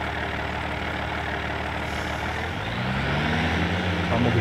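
Tractor engine in a farming simulator game, Professional Farming: Cattle and Crops, a steady low diesel drone that swells a little louder as the vehicle pulls away down the road, heard alone without talk.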